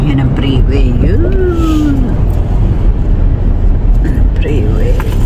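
Steady freeway traffic rumbles loudly and continuously, with a few engines rising and falling in pitch as vehicles pass, under a person talking.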